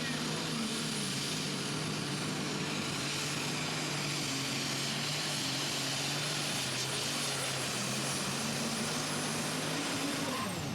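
An International light weight super stock pulling tractor from Tennessee roars at full power at a Franklin, Kentucky pull, a loud, unbroken engine drone with a steady tone that bends upward near the end.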